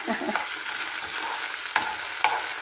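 Ground beef for tacos frying in plenty of oil, a dense, steady sizzle close by with a few sharp pops and stirring clicks, no talking.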